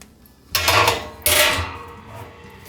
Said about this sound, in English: Grill grate